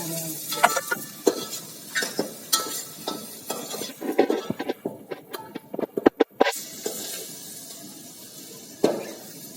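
Green onions fry in a pan over a wood-fired clay stove during village-style cooking, with a continuous sizzle under sharp, irregular stirring knocks and scrapes that are loud and close.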